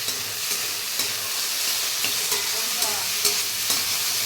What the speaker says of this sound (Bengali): আলু ভাজা হচ্ছে বসিয়েছি আজকে আলু ভাজাটা এদেরও একটু পাল্টে দিয়েছি আলু দিয়ে পেঁয়াজ দিয়ে বসিয়েছি একসঙ্গে